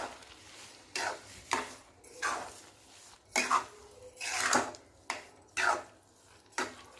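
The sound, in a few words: stirring carrot halwa in a pan after adding sugar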